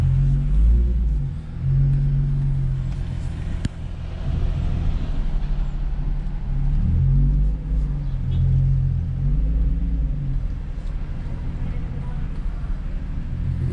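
An Infiniti G35 engine runs on a drive with a steady low rumble, rising and falling as it revs and accelerates a few times, close and continuous inside the car.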